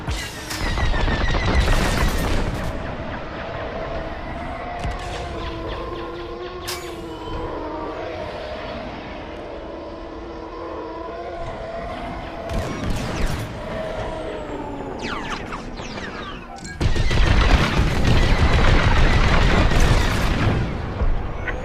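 Blaster fire and explosions from the Star Wars Squadrons space-combat game on PS4 form a dense, loud barrage of rapid shots and booms that runs throughout and swells into a heavier burst of explosions near the end.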